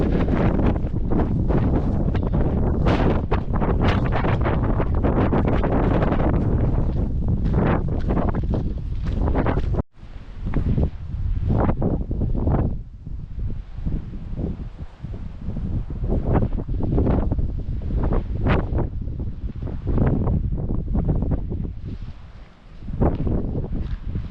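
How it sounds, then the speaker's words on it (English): Strong coastal wind on a walk from Newquay toward Land's End buffets the microphone in loud, continuous gusts, with rumbling low-end roar that briefly drops out before surging back. "Be a bit windy."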